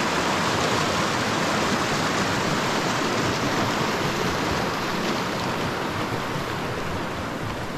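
A mountain river pours over rocks along a high-elevation Kings Peak hiking trail, giving a close, loud, unbroken rushing hiss with no voices over it.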